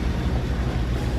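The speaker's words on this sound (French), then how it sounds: "et 2 moteurs à fond" Two outboard motors at full throttle push a boat through a dangerous reef pass in Polynesia, a loud, dense low roar mixed with wind and water rush, steady and close.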